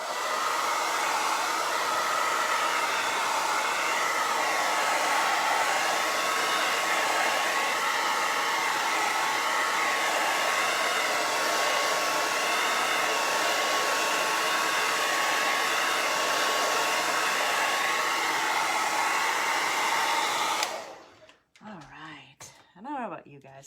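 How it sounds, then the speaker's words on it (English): A hair dryer blows steadily on white paint coated onto flip flops, a loud continuous whoosh lasting about twenty seconds before cutting off abruptly, followed by brief handling noise. "I'm gonna give this white a quick blow dry"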